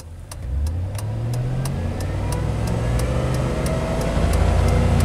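A GM truck engine with a misfire revs steadily upward, its loud drone rising in pitch over several seconds, with a repeating ticking pulse running through it.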